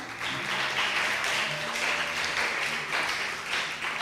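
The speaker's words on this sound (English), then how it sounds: "Clap for her." Audience applause fills a hall at a school debating competition in Dominica, a dense, steady wash of clapping that stays loud and close throughout, swelling gently in waves with no break.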